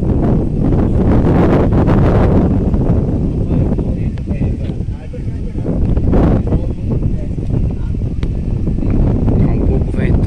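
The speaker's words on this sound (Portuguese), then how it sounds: "Tá um pouco ventando" Strong wind buffets the microphone beside a lagoon near a small plaza at Marechal Deodoro, Alagoas, producing loud continuous low rumbling gusts that swell and ease throughout, with a voice faintly present under the roar.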